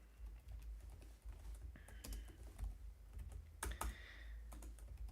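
Keys on a computer keyboard clatter in irregular bursts of quick taps, fairly close and quiet, with short pauses between runs of keystrokes.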